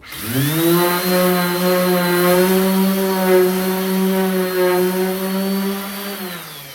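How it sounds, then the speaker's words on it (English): A sander with a 3000-grit disc works a counter, its close, loud motor whine rising at the start, holding steady for about six seconds, then winding down. "I can sand the counter here."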